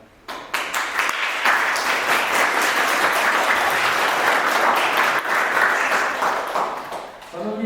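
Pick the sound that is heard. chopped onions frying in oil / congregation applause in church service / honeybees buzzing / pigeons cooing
congregation applause in church service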